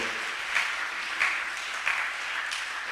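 Church congregation applauding together in a steady wash of clapping, with a few louder swells, after an acclamation of the word of God during a sermon.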